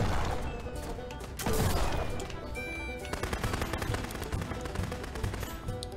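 Rapid shotgun blasts and gunfire in the Xbox One farming shooter game Shotgun Farmers, with dense, overlapping shots in loud bursts over a cluttered game mix, including one heavy crash-like hit.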